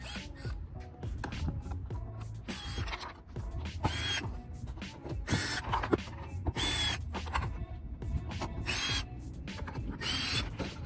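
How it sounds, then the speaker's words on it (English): A power drill removes screws from a 10th-generation Honda Civic coupe's rear diffuser, whirring in repeated short bursts, stopping and starting with faint clicks and mechanical rattling between runs. "To make the process a little bit faster, I'm going to use the power drill."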